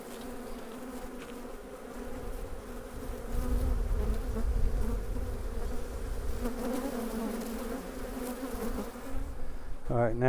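Dense, close buzzing of many honey bees around a hive, rising and falling in loudness, with a brief high squeak near the end.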